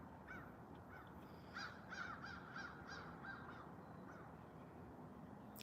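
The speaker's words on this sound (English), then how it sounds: "two black crows" Two black crows cawing, a short series of repeated harsh caws at moderate distance over steady outdoor background noise, with no talking.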